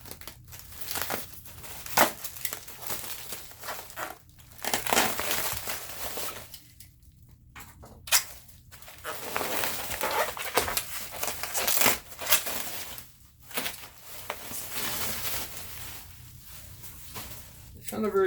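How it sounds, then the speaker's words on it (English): Packing tape being pulled and torn off a cardboard box holding an old AST laptop, close crinkling, ripping and crumpling bursts in irregular spurts with occasional pauses. "undo the tape here"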